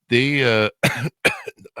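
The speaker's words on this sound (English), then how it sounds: "Sorry, I had a cough there." A person coughs sharply a few times in quick succession, close and loud, with a brief throat-clearing sound in between.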